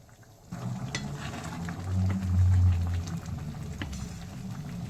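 Chicken tarka curry bubbling in a pot on a gas stove, a steady close simmer with soft sizzling and faint stirring, swelling briefly in the middle before settling back to an even bubbling.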